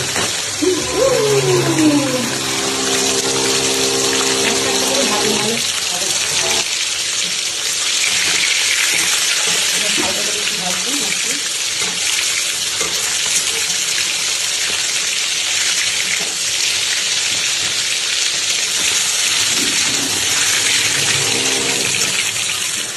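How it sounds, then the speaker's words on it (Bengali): Loud, continuous sizzling of large giant freshwater prawns frying in hot oil, close up, with occasional tonal background sounds and faint clatter. "এই বড় সাইজের মাছ গলদা চিংড়ি ভেজে নেবো সুন্দর করে"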